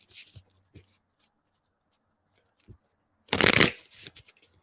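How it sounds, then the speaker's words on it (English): A deck of tarot cards is handled at close range: a few soft taps and card flicks, then a short, crisp riffle shuffle burst lasting under a second that trails off into light rustling. "Hold on, I'm shuffling, girl."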